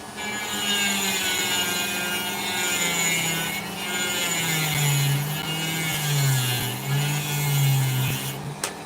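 A saw slicing a seam opal with a chunk of sand in it, a steady high whining cut with tonal grinding that wavers in pitch over several seconds, close and loud with no talk.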